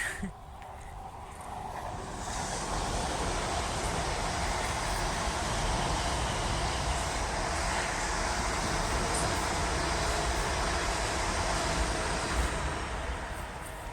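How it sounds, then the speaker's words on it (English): A train rumbles past, a steady broad roar that swells in after a quiet start and holds for several seconds before easing slightly. "train coming"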